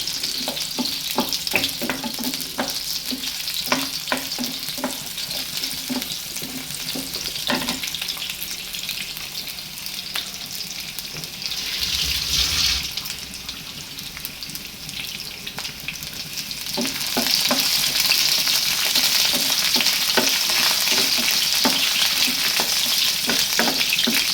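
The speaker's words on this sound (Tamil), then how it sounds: "பூண்டு நல்லா பொரிஞ்சோன்னே வெங்காயம் போட்டுருங்க. வெங்காயம் போட்டு நல்லா வதக்கணும்." Garlic and onions frying in oil for a traditional garlic thokku, a loud, steady sizzle with repeated scraping stirs throughout and no voices.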